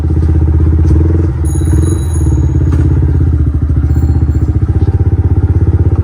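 A Yamaha MT15 motorcycle idling to warm up, its single-cylinder engine giving a loud, close, steady rhythmic thumping that grows more pulsed toward the end.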